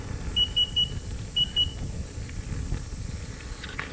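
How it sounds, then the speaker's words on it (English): A KingSong KS16X electric unicycle gives two short pairs of high-pitched beeps while riding on a steep, freshly paved path, sounding over a low rolling motor and road hiss. "I don't know if you can hear those beeps or not."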